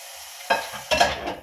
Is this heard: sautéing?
yes